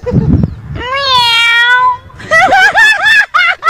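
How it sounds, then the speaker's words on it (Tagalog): Meowing, a drawn-out high meow followed by a few shorter wavering cries, loud and close, with a scuffle at the start. "Naging pusa."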